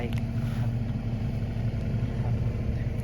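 A mini excavator fitted with a mulcher mower runs its engine at a steady, throbbing idle, a close, constant low drone throughout.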